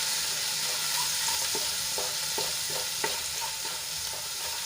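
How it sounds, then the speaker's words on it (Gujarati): Oil sizzles steadily as chopped garlic sautés in a pan, with a spatula scraping and tapping against the metal every so often while stirring. "એને આપણે થોડું તેલમાં સાંતળી લઈશું"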